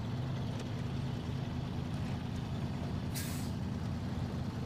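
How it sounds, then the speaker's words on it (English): An International Fleet Star off-road truck in the SnowRunner video game idles with a low, steady diesel drone, quiet and even, and a brief sharp air-brake hiss bursts out near the end. "International Fleet Star. The very first off-road truck you get in the game."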